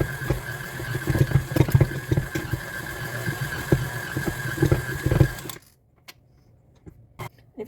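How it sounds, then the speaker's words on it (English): A KitchenAid stand mixer with a dough hook kneads bread dough, giving a steady motor hum with irregular thumping knocks, then stopping abruptly and leaving near quiet with a few faint clicks. "we're using the KitchenAid dough hook here to knead it."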